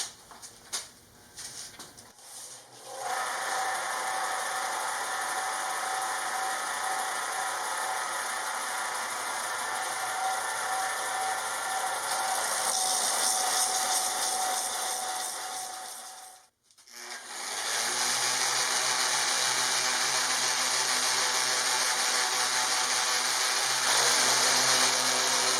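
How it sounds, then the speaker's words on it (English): A power sander works over a rough, glued wooden window sill patched with sawdust filler, giving a steady, loud mechanical whir that runs continuously with one brief stop midway before starting again. "it's a rough surface now, so I'm gonna sand that"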